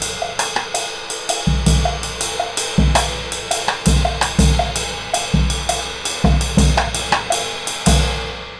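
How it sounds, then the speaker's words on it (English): Snare drum and bass drum trade a four-bar Afro-Cuban 12/8 phrase. Quick, close snare strokes ring over heavy, booming bass drum hits that land at intervals, played alone with no talking. "I'm going to give you a little combination of snare drum, bass drum pattern, 4-bar phrase."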